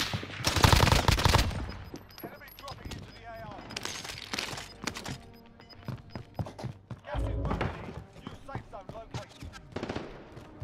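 Rapid automatic gunfire from a PP19 Bizon in the video game Warzone, with repeated bursts and single shots scattered through the clip, loud and close, mixed with game effects and a player talking over it.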